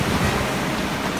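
Ocean surf breaks along a rocky shoreline on the Otter Trail, a brief dense roar of water and wind, close and loud with no speech.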